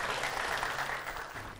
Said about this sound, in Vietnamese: Xin khán giả một tràng vỗ tay thật lớn hơn ạ.